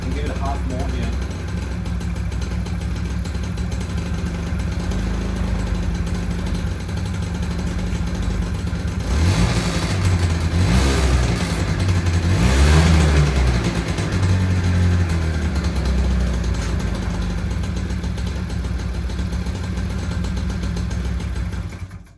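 A cold Honda Melody scooter engine idles steadily during carburetor adjustment, then revs up in a few short bursts midway before settling back to an even idle.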